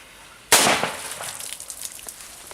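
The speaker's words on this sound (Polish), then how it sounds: "i petarda zdecydowanie w wodzie wybucha" A Maxsem Srebrna Piratka firecracker explodes in water with one sharp, loud bang, followed by a second of splashing and crackling debris that fades away.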